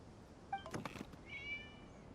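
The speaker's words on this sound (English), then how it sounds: "It was just a cat." A cat meows in a video game, a faint, brief meow followed by a soft thud-like sound and a higher tonal call, isolated against a quiet background.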